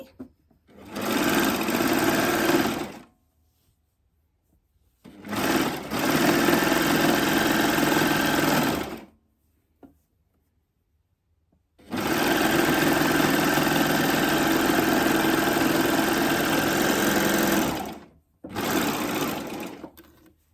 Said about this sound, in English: So the flocked ponte, I'm going to sew it like it was the seam of a dress.